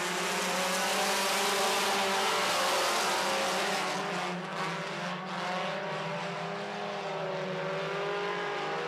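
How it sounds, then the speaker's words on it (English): Four-cylinder stock cars racing from the green flag, a loud continuous roar of several engines close by with rising and falling pitch as the pack passes, no voices. "We're racing in the four-cylinder stocks."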